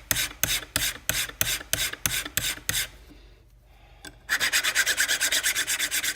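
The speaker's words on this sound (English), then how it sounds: "Take my file. Kind of flatten out any burrs on that edge." A hand-held metal file rasps across the edge of a 1957–62 Corvette power-top deck lid arm, taking off burrs in about a dozen even, close strokes, then a short pause, then a quicker run of brisk scraping strokes.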